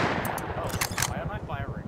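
Gunfire from the player's weapon in the survival game Rust, a rapid burst of close, sharp shots in quick succession, with a voice talking over the shooting.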